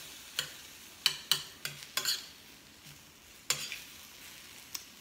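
Vegetables frying in a pan with coconut oil as water is added, giving a steady sizzle broken by several sharp utensil clatters and stirring scrapes, close and fairly loud, with no talk.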